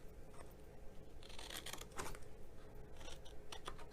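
Scissors snip through thick Whisper White cardstock while a party favor box is being made, a quiet run of crisp clustered cuts in short bursts, close and faint.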